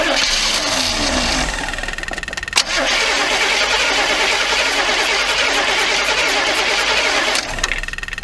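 A 1979 Chevy G20 van engine cranks with a rapid rhythmic churn, catches with a sharp jolt and settles into a loud, steady idle recorded close up, with no voices.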